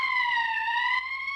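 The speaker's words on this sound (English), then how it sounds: "That's the emergency siren." The emergency siren in the Valkyria Chronicles video game gives a clear, loud tonal wail with a rich harmonic tone that dips slightly in pitch, sustained alone for just over a second.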